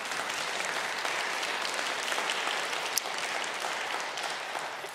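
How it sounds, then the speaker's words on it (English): Applause from a church congregation on Easter Sunday, a full continuous roar of many clapping hands at steady loudness from start to finish, with a single sharper clap standing out midway. "it's worth a round of applause."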